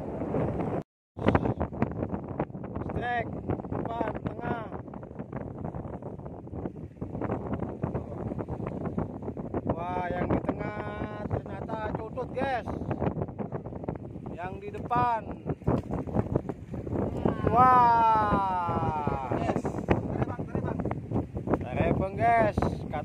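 Strong wind buffets the microphone at sea while people fish from a boat, a steady rough rushing that runs under frequent talking throughout.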